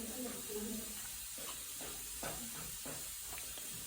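Gram flour and chopped onion being stirred in a hot pan, with a steady sizzle and scraping strokes repeating every half second or so.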